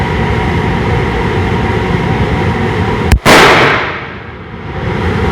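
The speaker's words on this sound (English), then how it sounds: "I'm shooting high." A Cobra Derringer 9mm fires a single Remington Golden Saber 124 grain standard-pressure round at a shooting range: one sharp, loud close-up crack that rings out and fades over a steady background rumble.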